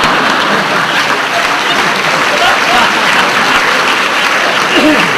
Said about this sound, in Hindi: जितनी तालियां बजा के आपने मेरा समय लिया है